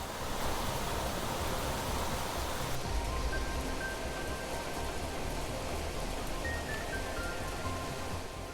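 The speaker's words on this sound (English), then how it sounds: "we've already got rain" Steady broadband rain hiss in the Planet Crafter game on a terraformed moon, loud and continuous with no talk, a faint tonal chime appearing partway through.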